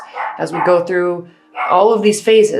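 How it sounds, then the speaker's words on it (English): A pet dog barks indoors in short yaps mixed under a person's steady talking, with a brief quiet pause between bursts. "I'm just going to let him bark and hopefully he stops"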